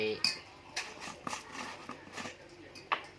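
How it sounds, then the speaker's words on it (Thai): A spoon stirs a spicy Thai raw shrimp salad with chili in a bowl, giving a few light clinks and scrapes against the dish at an uneven pace, close up. "คน คนให้เข้ากันก่อนนะครับ"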